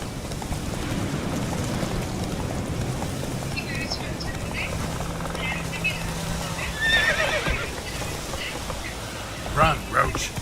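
Roach the horse in The Witcher 3 gallops with steady clip-clop hoofbeats, then neighs and whinnies loudly near the end over ambient game sound.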